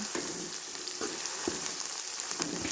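Misal spice masala frying slowly in plenty of oil, a soft continuous crackling sizzle with a few light stirring taps, fairly quiet and close.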